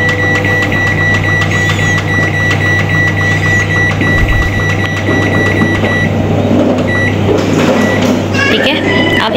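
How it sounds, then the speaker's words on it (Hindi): Microwave oven running for 15 minutes with a full tray of brownies inside, a loud steady hum with mechanical whirring throughout, and someone talking over it. "ये माइक्रोवेव में मैंने रख दी है ट्रे पूरी। अब मैंने इसको आपके सामने सेट करना है 15 मिनट के लिए।"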